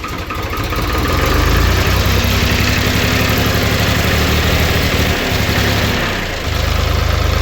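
A David Brown three-cylinder tractor diesel engine starts and runs steadily after its fuel system has been bled, with a loud, continuous low chugging idle that dips briefly near the end before settling again.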